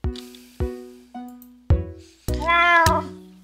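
Several short cat meows from a Minecraft Build Battle game, separated by brief gaps, with a longer drawn-out mew near the end, all loud and close with no talk over them.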